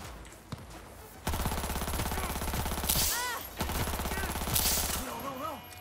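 Rapid automatic gunfire rattles in sustained bursts during a shootout in Cyberpunk 2077, loud and dense, with brief gaps and game sound effects between volleys.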